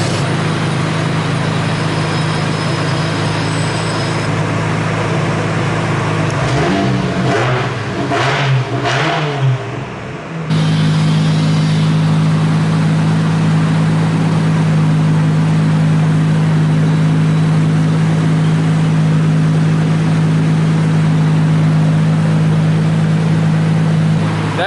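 A tuned car engine roars on a dyno during power runs at a workshop. It holds a loud, sustained high-rev drone, dips briefly with shifting tones, then surges back to a steady full-throttle howl.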